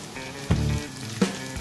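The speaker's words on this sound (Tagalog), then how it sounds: "Igisa lang po natin ito na maayos hanggang po sa maluto ang ating mga sibuyas" White onion sautéing in a pan for pork humba, a steady close-up frying sizzle with two brief bursts of louder spattering as the onions are stirred.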